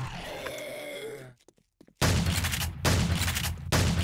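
Gunfire in the video game 7 Days to Die: loud bursts of rapid shots in two long volleys after a short grunt and a brief pause, close and dense.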